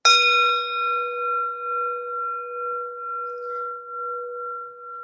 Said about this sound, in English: I can strike the bowl.